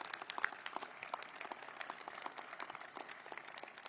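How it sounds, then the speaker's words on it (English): Light scattered clapping at the opening of a public safety training center, fairly faint and uneven, with individual claps standing out from a thin crowd. "Give yourselves a round of applause for all that you've done in this group project."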